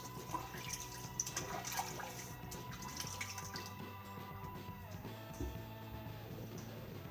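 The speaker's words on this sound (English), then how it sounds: "let's throw some water up on the head here" Water splashed and dripping at a sink onto a head before a wet shave, a steady close wash of trickling and dribbling water with no talk.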